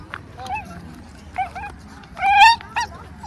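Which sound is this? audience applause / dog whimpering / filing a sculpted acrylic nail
dog whimpering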